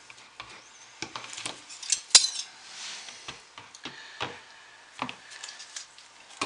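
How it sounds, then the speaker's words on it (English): Spoons dropping dollops of colored soap into a mold, heard as scattered close clinks and light taps at an irregular pace, with one sharper knock, and no talk. "take my mold and plop a color, plop a color, plop a color, and alternate"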